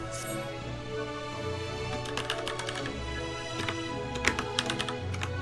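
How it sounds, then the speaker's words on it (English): Loud computer keyboard clicking while playing Final Fantasy XIV, bursts of rapid close keystrokes over steady game music and ambience, with a few sharper louder clacks. "Also, sorry for the loud clicking."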